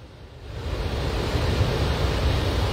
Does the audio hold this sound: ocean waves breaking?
yes